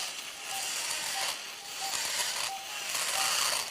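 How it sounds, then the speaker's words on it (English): High-pitched surgical drill whine from a robust cutting burr in ear surgery, running in bursts of about a second with brief dips between, close and hissy. "So now I'll be using the robust cutting burr."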